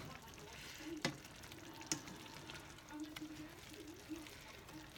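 Soy-aki chicken simmering in a pan as its liquid cooks down, a faint steady sizzle and bubbling with a few small clinks, quiet and close.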